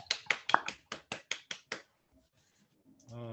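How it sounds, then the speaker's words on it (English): A small group at a Board of Trustees meeting claps for the retirees, about eight distinct, evenly spaced claps that stop abruptly, followed by a brief quiet and the start of a voice. "with all the retirees, definitely need a round of applause, please, from everybody."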